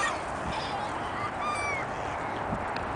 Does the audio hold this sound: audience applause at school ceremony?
no